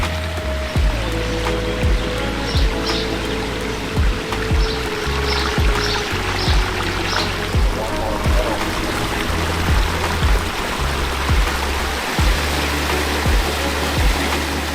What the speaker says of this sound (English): When we pulled it apart, we added more waterfalls.